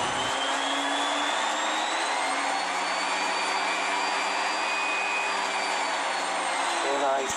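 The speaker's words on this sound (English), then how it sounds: "in this video you are going to hear in the background the power generator" A power generator drones steadily in the background, a continuous broadband motor roar with a constant pitch that runs almost unchanged for the whole stretch, no talk over it.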